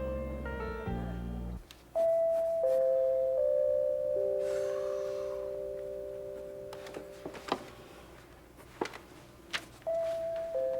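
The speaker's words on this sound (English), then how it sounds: "Congratulations, you found the bell." A bell chimes in a sitcom scene, with a cluster of sustained tones at the start followed by longer ringing tones and scattered knocks and clatter afterward, moderately loud.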